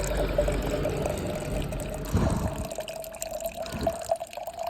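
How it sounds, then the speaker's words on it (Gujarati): Cold mountain spring water gurgles and splashes into a bottle near the Amarnath route. The pour is close and continuous, with bubbling and dripping that grows choppier as the bottle fills. "જો હમણાં થોડી વારમાં બોટલ આખી ભરાઈ જશે ગાઈઝ"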